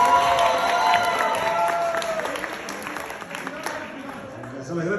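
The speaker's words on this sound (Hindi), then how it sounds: "तालियां जोर से बजाएं।" Audience applause and cheering from a crowd at a live comedy show, a steady wash of clapping that runs throughout with some voices over it, slightly tapering toward the end.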